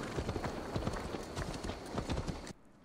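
Horse hooves clip-clopping in the video game Assassin's Creed Valhalla: a steady, dense run of hoofbeats at moderate loudness that cuts off abruptly near the end, with no speech.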